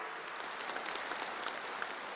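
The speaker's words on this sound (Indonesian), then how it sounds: "tepuk tangan yang keras." A crowd at a political speech claps steadily at a moderate distance, soft scattered handclaps blending into a light, continuous patter.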